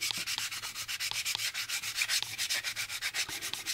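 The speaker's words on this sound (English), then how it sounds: "our cross sanding technique is pretty good at getting things to contour" A plastic model kit part for a starship warp nacelle is cross sanded in fast, steady back-and-forth strokes, a close, rhythmic rasping scrub with no voices.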